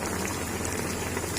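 Large-cut chopped onion frying in two big spoonfuls of cooking oil in a kadhai for mutton pulao, giving a steady, dense hiss like rain that holds at an even level throughout, with no talk.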